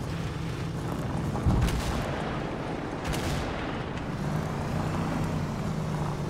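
Continuous dense roar of explosions and booms in the video game ARMA 3, with a couple of stronger blasts standing out from the steady rumbling din.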